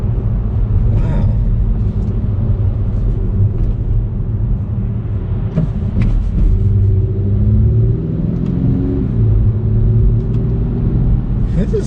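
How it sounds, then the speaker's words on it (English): A 2021 Acura TLX four-cylinder pulls hard in sport mode, a steady loud engine drone and road rumble from inside the cabin with rising tones as it accelerates, and faint voices at times. "this 4-cylinder is so punchy, especially in the sport mode"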